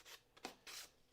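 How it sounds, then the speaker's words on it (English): Sandpaper rubs over a wooden puzzle box in three short, soft rasping strokes, very quiet and close. "a bit of sandpaper just to"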